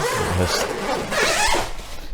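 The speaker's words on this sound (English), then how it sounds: "It is sealed by zippers." A zipper on a grow tent is pulled open in a couple of quick, rasping strokes, close and fairly loud, with a brief pause between the pulls.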